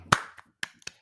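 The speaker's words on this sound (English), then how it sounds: "I started clapping before I realized you were taking shots at me" Hands clap four times in an uneven rhythm, sharp and close, with quiet gaps between the claps.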